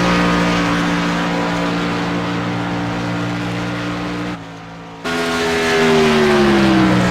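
A loud race car engine in the iRacing video game at Daytona drones steadily at high pitch, cuts out briefly, then roars back with a falling whine as it shifts, with no one talking.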